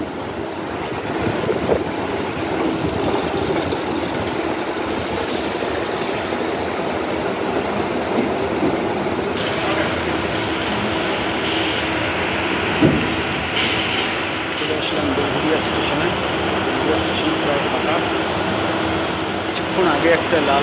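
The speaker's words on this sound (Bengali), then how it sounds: "ট্রেন আসছে, প্ল্যাটফর্ম প্রায় ফাঁকা হতে চলেছে" A train rolls into Agarpara station platform late at night with a steady low rumble and rising rail noise, close by, a voice speaking over it.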